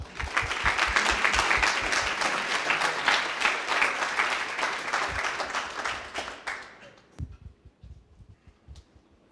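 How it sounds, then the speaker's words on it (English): Sustained audience applause, dense and loud, then tapers off into a few scattered claps and quiet. "we're going to give a round of applause to Scott, Matheson, to Mike, and to Taka"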